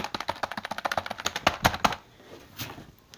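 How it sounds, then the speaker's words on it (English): Fast, light clicking from a computer keyboard with some keys missing, a quick run of close taps for about two seconds, then a few scattered strokes. "I got a keyboard."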